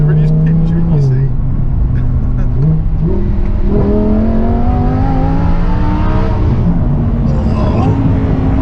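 Close, loud engine of a Lamborghini Huracan heard from the cabin, pulling hard through several gears with repeated rising pitch sweeps and brief dips at each shift, a continuous roar for over eight seconds.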